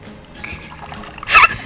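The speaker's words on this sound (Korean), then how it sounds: "나 한 손으로 따라야겠다" Green tea poured one-handed into a cup, a soft liquid trickle that swells into a brief louder splashing burst near the end, close by and heard on its own.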